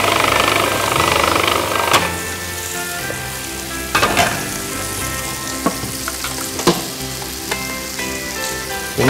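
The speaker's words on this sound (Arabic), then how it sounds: "نمشي شوي المكنة هون لتفرم. الثوم كتير ناعم." A food processor mincing garlic finely, heard as a steady dense whirring roar, louder at the start, broken by a few sharp knocks and clatters of the blade and bowl; no voices.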